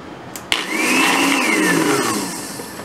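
A blender whirs up to a steady whine for pancake batter after a sharp click, holding loud and close for about two seconds before easing down, with no voices.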